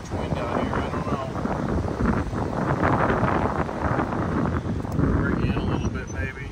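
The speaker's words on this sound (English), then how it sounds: "Might be too much wind out here." Strong wind buffets the microphone on a beach road along the Gulf of Thailand, a steady broadband roar that swells and dips throughout, with someone talking over it.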